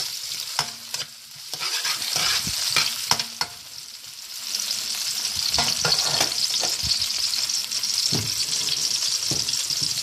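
Green onions and a shallot frying in olive oil in a pot give a steady crackling sizzle, broken by sharp clicks and scrapes of stirring, close up and continuous.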